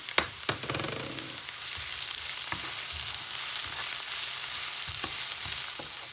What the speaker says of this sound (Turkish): Şimdi birazcık kavurduktan sonra biberlerimi ekliyorum.